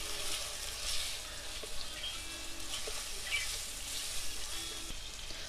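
Onion and tomato sizzle in hot oil for a crab roast, a soft, steady frying hiss with faint stirring taps scattered through it, with no one speaking.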